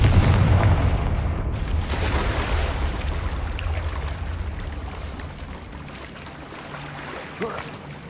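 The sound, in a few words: Confringo explosion spell from the video game Hogwarts Legacy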